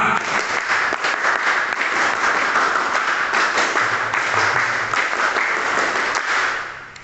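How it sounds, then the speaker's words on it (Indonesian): Scouts do a Pramuka clap, the rhythmic scout clapping chant, performed twice: dense, loud applause from a group fills the whole stretch, then fades at the end. "Coba saya tes 2 kali tepuk Pramuka."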